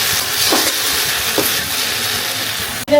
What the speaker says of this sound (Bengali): এখন হলো যে ভেন্ডি ভাজিটাই হচ্ছে, ভেন্ডি ভাজি হলে শেষ